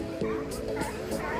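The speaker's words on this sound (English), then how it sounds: "I don't know if you can hear the barking." Sea lions bark at La Jolla Cove in a few short, rough yelps spaced through the clip, heard at a moderate distance, with people's voices and outdoor crowd noise around them.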